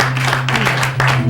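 A small audience applauding a comedian on stage, steady close clapping for about a second over a low constant hum.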